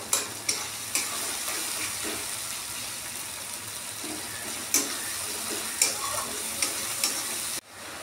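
Onions and fish masala spices frying in oil are stirred in a pan, giving a continuous loud sizzle punctuated by regular scraping clicks of the spoon, with no one talking.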